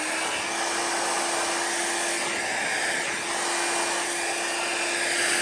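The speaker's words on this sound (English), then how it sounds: "I am using the cool setting on my dryer" A hair dryer on its cool setting, used for drying alcohol inks, runs steadily at close range with a constant whooshing airflow and a fixed motor hum throughout, no voices.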